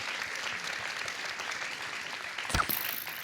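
An audience applauding for Ali Wong at a comedy show, a soft steady patter of clapping heard from a distance, swelling slightly near the end.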